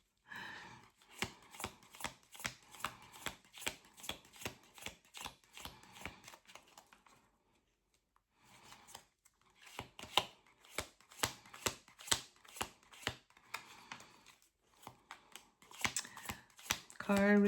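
Tarot cards being shuffled in rapid bursts of crisp riffling clicks, pausing briefly midway before resuming, close and fairly quiet with faint talk underneath.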